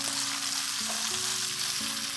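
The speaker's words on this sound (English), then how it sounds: "I'm going to add in sliced tomatoes and mix this well" Sliced tomatoes and onions are stirred in a frying pan for a Goan vegetable caldine, giving a continuous close sizzle with soft scraping stir sounds, and no voices.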